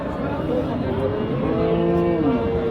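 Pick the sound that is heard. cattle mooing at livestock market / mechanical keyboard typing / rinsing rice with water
cattle mooing at livestock market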